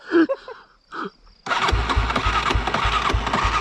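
A Yamaha Raptor 350 quad's engine cranks over without catching, a loud, rough, rhythmic churning that starts abruptly after a brief stretch of voices and runs steadily to the end.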